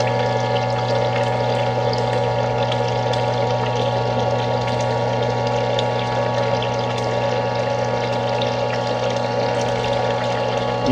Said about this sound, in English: check out your new water feature